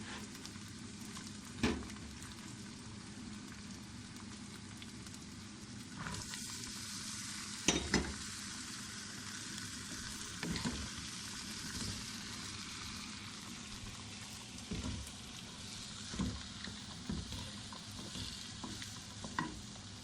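Carrots and ginger sizzle in a pan with a soft, steady fry, broken by several sharp stirring knocks and scrapes of a utensil, fairly quiet and close with no voices.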